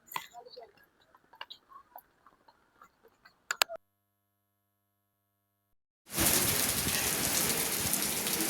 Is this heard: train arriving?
no